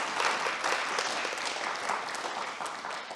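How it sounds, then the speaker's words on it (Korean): Korean church congregation claps in encouragement for the serving team, an even, sustained round of applause from a roomful of worshippers with no talking over it. "수고하는 분들을 위해서 한번 격려의 박수만 하나 하겠습니다"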